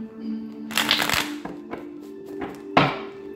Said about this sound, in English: Two more shuffles, Taurus.